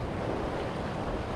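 Wind rushes and ocean waves wash in a steady, dense roar at sea, with no speech over it.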